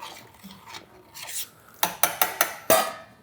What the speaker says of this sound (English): I'm going to keep going back here and stirring this up here as I told you I would, because that orzo